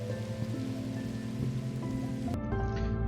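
Rain falls on lava in Minecraft survival play, a dense continuous patter and sizzle with steady low rumbling tones beneath, fairly even in level and shifting slightly partway through.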